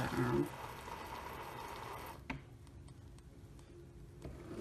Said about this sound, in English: As soon as I put this lever down, it's going to rinse itself out and clean it.